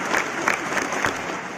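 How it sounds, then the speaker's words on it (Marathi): Audience applauding at a school gathering where students perform drills and lezim, a brief crowd of clapping hands with rhythmic bursts and some voices mixed in. "तुम्ही एकदा जोरदार टाळ्या वाजवा"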